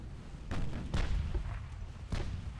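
Naval guns firing in the warship battle game Ultimate Admiral Dreadnoughts, from British cruisers with 6-inch and 7-inch guns: three or four dull, booming reports a fraction of a second apart over a low rumble.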